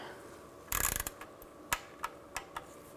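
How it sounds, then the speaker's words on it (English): Torque wrench tightening oil pan bolts on a 2004-2008 Nissan Maxima, a quick burst of ratcheting clicks followed by several separate sharp clicks spaced apart, close and fairly quiet. "go around and torque these to 80 inch-pounds"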